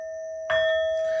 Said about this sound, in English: These next little bell sounds are to align us and to bless this reading.